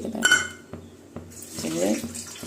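A couple of metallic clinks give way to water splashing and pouring steadily into a pot for tomato rasam, about 2.5 cups, growing fuller toward the end.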